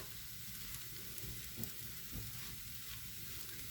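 Dough for a walnut-filled rolled dessert fries in a pan with a dense, steady sizzle, the oil crackling continuously while it is stirred, with faint scrapes and no voices.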